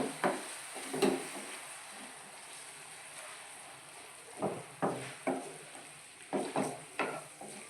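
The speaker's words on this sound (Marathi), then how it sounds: "पिवरी चांगली परतून घ्यायची" Onion puree sautéing in a pan for a Maharashtrian soybean gravy masala, with a soft steady sizzle and repeated scraping stirs of a spoon at irregular intervals, close by and with no talk.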